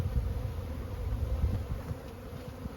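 Honey bees buzz around an open hive, a low, continuous droning hum of many wings close to the listener, wavering slightly in loudness with no voices.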